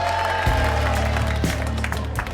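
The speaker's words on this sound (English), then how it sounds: "come on, a big round of applause for Mr. and Mrs." Wedding guests applaud the newlyweds, Mr. and Mrs. Dalton, with loud crowd clapping mixed with cheering voices and a steady low hum in the room.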